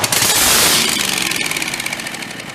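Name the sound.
Terramite two-cylinder engine running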